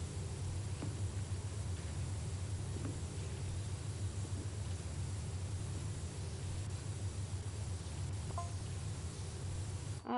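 Pressure washer nozzle spraying in the video game PowerWash Simulator: a steady, even hiss of broadband spray runs unbroken for the full length at moderate level, with no talk over it.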